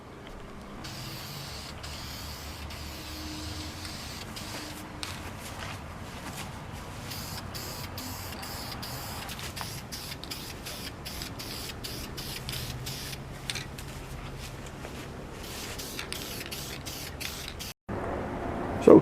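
A spray can lays coats of sealer primer onto Ninja motorcycle parts in near-freezing weather, a steady hissing spray in long and short bursts, with a sharp break near the end.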